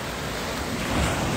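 Sea waves at Sandbag Beach in Vadakara give a steady, close wash of surf with wind noise blowing across the microphone, continuous for the whole short stretch.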